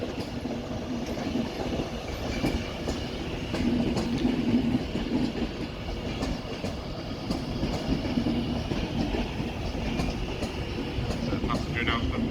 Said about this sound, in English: another Pendolino is pulling in